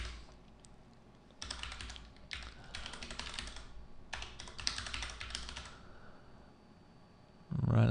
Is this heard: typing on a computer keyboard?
yes